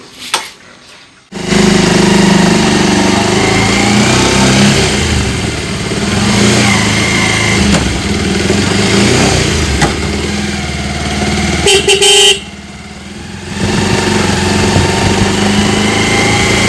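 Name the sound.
motorcycle engines and horn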